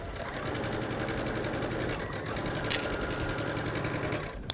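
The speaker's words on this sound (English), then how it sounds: "you're going to stitch all the way around the neckline" A sewing machine runs steadily, stitching around a V-neck neckline at a 2.5 stitch length, a continuous close mechanical whir that holds for several seconds with no talking.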